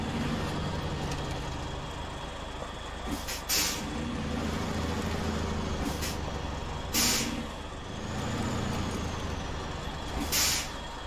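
Three short bursts of truck air-brake hiss from a handbrake in the SnowRunner video game, each sharp and fairly loud over a steady low engine rumble, spaced a few seconds apart.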